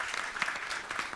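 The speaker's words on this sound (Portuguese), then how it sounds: "Queria pedir uma salva de palmas para o Marcos Vasconcelos." A lecture audience at Uninove in São Paulo applauds a guest, a brief, soft, continuous patter of many hands heard from some distance.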